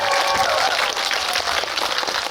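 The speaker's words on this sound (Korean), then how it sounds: "우리 세영 감독님께도 박수 한번 보내주시면 감사하겠습니다" A cinema audience at a CGV Wangsimni guest-visit screening applauds the director, a brief, dense burst of many hands clapping at close range, steady throughout.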